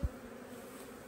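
Honey bees buzzing at a hive, a steady low drone over a brief soft thump at the start, continuous and fairly faint.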